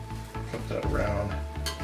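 A spatula scrapes and flips scrambled eggs with cheese in a hot pan, with quick scraping strokes over a soft sizzle, close and moderately loud.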